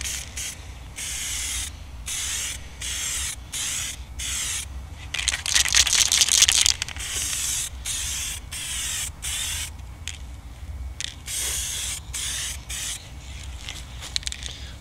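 Harpy Motors touch-up base coat paint is sprayed from a can onto sanded primer in a run of short, close hissing bursts with brief pauses between, plus one longer steady spray near the middle.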